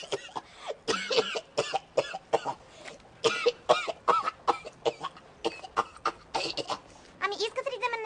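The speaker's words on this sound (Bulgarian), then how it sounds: "Сега ще му привлеча вниманието с една деликатна кашлица." A deliberate, delicate cough comes as a run of short, close throat sounds and small coughs in a quick, uneven rhythm.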